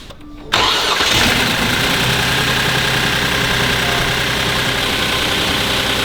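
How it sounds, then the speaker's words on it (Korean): A Genesis EQ900 car engine is restarted with a short crank and catches, then settles into a loud, steady, slightly rough idle that runs to the end. "시동을 다시 걸어"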